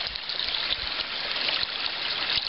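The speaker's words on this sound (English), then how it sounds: "pour a little hot water on that." Hot water poured onto a frozen hose fitting on a roof in February, a steady splashing trickle that runs continuously and close by, with no talking.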